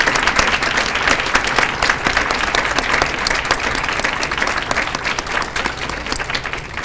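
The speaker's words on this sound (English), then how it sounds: "Let's give them a round of applause." Steady, loud applause from a luncheon audience honoring scholarship recipients as they stand, a dense unbroken wash of clapping that holds at an even level throughout.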